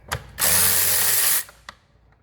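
A power tool undoing the retracting air filter bolts on a Mini Cooper: one short, loud whirring burst lasting about a second, with faint clicks before and after.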